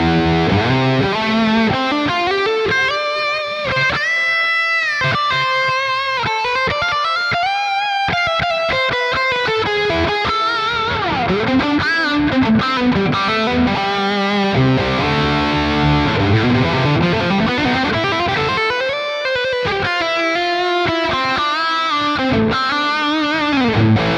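Heavily distorted 80s rock lead guitar through the lead channel of a Peavey 505 amp into V30 speakers, with delay added, playing sustained bending melodic lines and fast runs, loud and continuous with echoing repeats.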